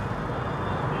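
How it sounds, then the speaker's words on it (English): Busy street traffic in Calcutta, India, a dense, steady roar of vehicles and engines close by, with no breaks. "Noisy, traffic"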